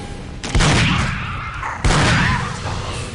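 Two loud shotgun blasts in Aliens vs Predator 2: Primal Hunt, each a sharp boom trailing into a long rumbling decay, the second following about a second and a half after the first, with faint talk beneath.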